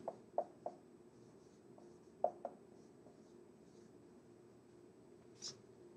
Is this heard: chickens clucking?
no